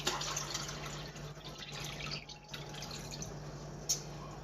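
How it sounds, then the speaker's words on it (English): Water is poured from a cup over a sink: a faint, soft trickle and patter of liquid with a few brief drips, quiet and alone without speech. "I'm going to pour over my sink."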